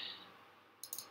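A computer mouse clicks several times in quick succession, sharp and close, with a faint hiss before.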